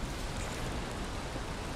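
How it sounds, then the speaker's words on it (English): Steady rain in the video game Valheim, a dense, even hiss of falling water that stays constant throughout, heard alone. "And now it's raining"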